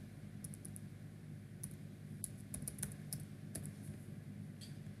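Keystrokes tapped on a computer keyboard in quick, irregular bursts with short pauses, close and fairly quiet over a low steady background hum.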